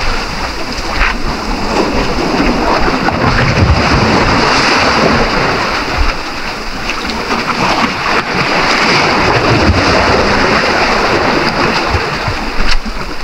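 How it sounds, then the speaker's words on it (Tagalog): Strong ocean waves heard from a fishing boat at sea, a loud, continuous rush and churn of water with wind, swelling and easing in broad surges. "Biglang lumakas yung alon guys."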